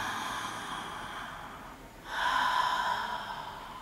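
A single deep abdominal breath, a long airy inhale followed by a fuller, louder exhale, close to the microphone with no speech.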